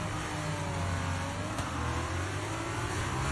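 An F2 race car in the F1 23 video game pulls away at the Bahrain start, its engine a steady mid-pitched drone rising under throttle, with other cars' engines mixed in and no talk.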